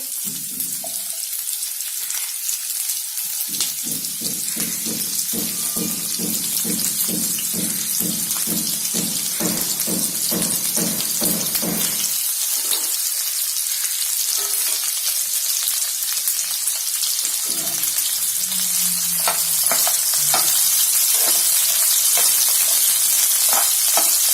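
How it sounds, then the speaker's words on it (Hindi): Green cauliflower florets frying in hot oil in a home kitchen, a continuous loud sizzle and hiss with occasional bubbling crackles that rises and steadies over the full stretch, no voices. "फ्लावर को हम फ्राई कर लेंगे।"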